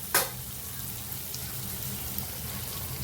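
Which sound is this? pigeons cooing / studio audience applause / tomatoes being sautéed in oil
tomatoes being sautéed in oil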